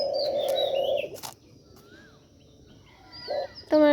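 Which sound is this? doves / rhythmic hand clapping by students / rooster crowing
doves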